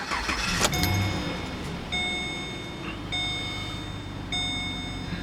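The 6.0 liter V8 of a 2012 Chevy Caprice PPV police car with 48,000 miles cranks and catches in a short burst, then settles into a steady idle while electronic warning chimes repeat several times.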